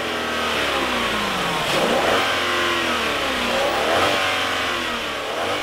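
A 2011 Hyundai Equus with a 4.6-liter V8 revving, a loud, close engine roar that rises and falls through several sweeping rev cycles with no voices.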